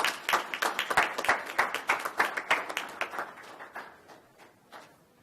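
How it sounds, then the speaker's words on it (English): A round of applause for city employees at a city council meeting: distinct claps from a modest group, brisk at first, then thinning and fading toward silence. "one round of applause for all of our employees"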